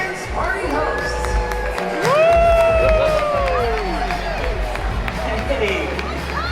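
A theme park crowd at a Disneyland Pixar Fest dance party cheers and shouts for the hosts, with loud overlapping whoops and children's high-pitched yells rising into a sustained roar.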